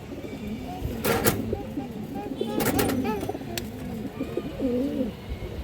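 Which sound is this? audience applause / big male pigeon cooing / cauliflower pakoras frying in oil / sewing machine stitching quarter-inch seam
big male pigeon cooing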